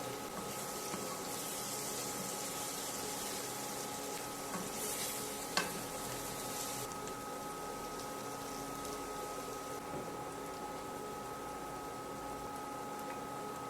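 Small meatballs and onions sauté together in a pan, making a soft continuous sizzle with faint stirring scrapes and one brief sharp tap midway, steady and moderately close, with no speech.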